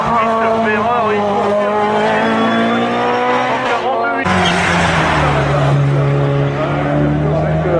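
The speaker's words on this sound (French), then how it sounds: "Ferrari." A Ferrari race car at a hill climb race roars loud and close, engine pitch climbing through gears with a sharp drop at a gear change, while an announcer talks over it.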